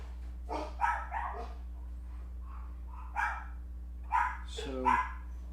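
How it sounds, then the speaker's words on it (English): Several dogs bark in short bursts at mid distance, a few separate volleys with a whimpering yip near the end, over a steady low electrical hum in an indoor room. "my dogs are going crazy"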